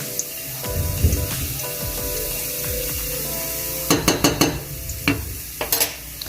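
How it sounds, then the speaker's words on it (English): Curry goat stirred in a pot with a teaspoon of curry just added: low scraping and mixing over a faint sizzle, then a cluster of sharp utensil clacks against the pot near the end, with no talking. "So I mix it up in the pot, right?"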